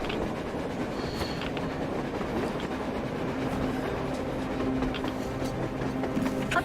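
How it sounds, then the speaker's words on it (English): Train running on the surface in Metro Exodus, a continuous rumble with clickety-clack wheel noise and faint squeals, heard at moderate distance with no talk. "A train! A damn train on the surface!"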